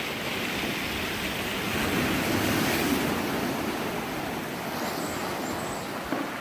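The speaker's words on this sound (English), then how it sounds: "You can hear the water turning all the rocks down there." A strong ocean current surges through a rocky sea cave, a broad continuous roar of churning water with rumbling rocks underneath, loud and steady, swelling slightly midway, with no talking.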